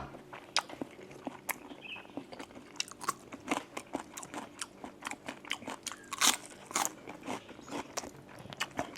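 Stir-fried roselle leaves with bamboo shoots and pork being chewed close up, a steady run of crisp crunching bites and wet chewing at a quiet level.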